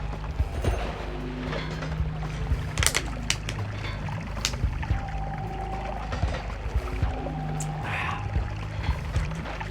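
Someone drinks water close to the microphone, with a series of scattered sloshing gulps and small clicks over a steady low background hum.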